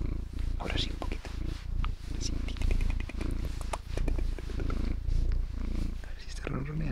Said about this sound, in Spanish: ponte aquí cerca, que te escuchen ronronear.